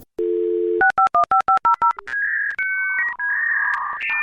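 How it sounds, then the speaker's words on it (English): A dial-up modem connects over a telephone line: a steady dial tone, then a quick run of dialing beeps and the first screeching handshake tones, heard clearly with no voices. "I can hear the telephone line almost like it was yesterday, way back when we were just growing up on dial-up."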